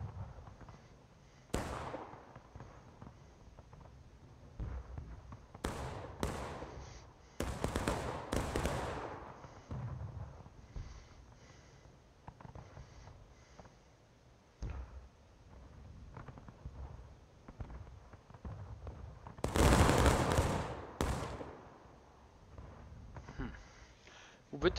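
Musket and cannon fire in the online Civil War battle game War of Rights: scattered sharp bangs and several loud blasts, with one heavy burst near the end, heard under ongoing speech.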